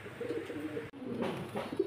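Domestic pigeons kept in a collection coo softly and repeatedly at close range, low throaty burbling calls in a quiet indoor setting.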